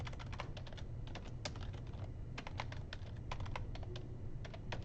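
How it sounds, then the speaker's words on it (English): Rapid clicking of keys on a sticking computer keyboard, a quiet, steady stream of typing with irregular rhythm. "my keyboard is sticking."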